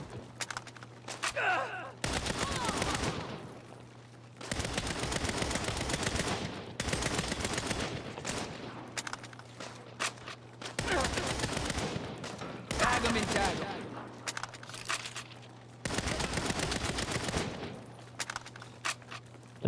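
Gunfire in the Saints Row video game: long bursts of dense automatic fire come in repeated blocks a few seconds apart over a constant low hum, with brief quieter gaps between the volleys.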